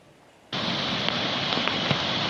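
Continuous heavy rain pouring down in the Ilocos Region during a storm, a dense, steady hiss that starts abruptly and then holds loud and even, with a few sharper drop impacts.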